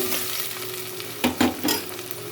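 Curry being stirred in a frying pan, a soft continuous sizzle with three or four distinct scraping stirs of the spatula near the end.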